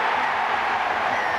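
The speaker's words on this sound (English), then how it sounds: "Here comes the TRY, and listen to this capacity crowd." A capacity rugby league crowd roars at a try in a Wigan versus St Helens match. The cheering is a dense, sustained wash of noise, loud throughout and with no clear peaks.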